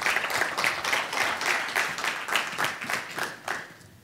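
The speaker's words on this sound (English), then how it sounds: "a round of applause for Dave Stokes" Steady audience applause for Dave Stokes at the POSSCON 2011 technical track, with individual claps standing out in a fairly even rhythm, loud and close, tapering slightly toward the end.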